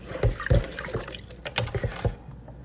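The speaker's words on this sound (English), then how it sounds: "I will continue to rinse my rice until my water runs clear" Parboiled rice is swished and rinsed in a bowl of water, giving irregular close sloshing and splashing bursts with small drips between them.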